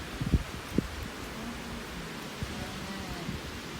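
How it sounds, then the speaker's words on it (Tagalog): Steady seaside wind rushes and buffets across the mic, with a few soft thumps near the start and a low, noisy roar throughout. "Kaya lang medyo mahangin sa ngayon."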